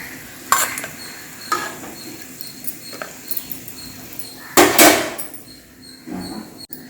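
Sun-dried buttermilk chillies frying in hot oil, a low sizzle broken by several scraping stirs and clicks, the loudest burst near the end, close by with no talk.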